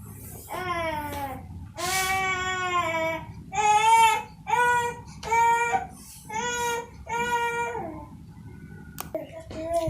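A baby cries and fusses nearby in a series of wailing bursts with short pauses between them, loud and close.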